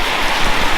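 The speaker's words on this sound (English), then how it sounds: "It's the Thursday afternoon thunderstorm." Steady rain from an afternoon thunderstorm hisses close and loud as a dense, even wash across a short stretch, with no voices.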